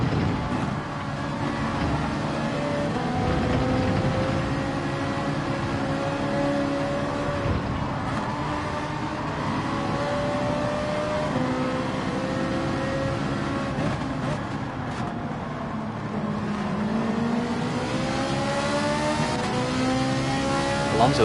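Race car engines roar through a Gran Turismo 7 online race, a dense, continuous drone of several cars with rising and falling pitch as they brake and accelerate through corners, steady and loud throughout.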